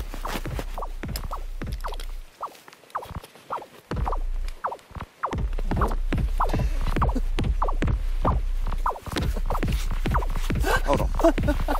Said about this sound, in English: he's layered them together to produce a little composition made by the sounds of this fungus